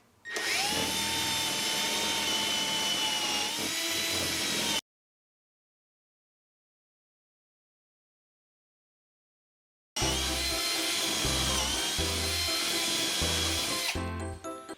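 Power drill boring holes through a Beadlock loose-tenon joinery jig into wood, two loud sustained bursts of whirring drilling separated by about five seconds of silence, close and with no talk.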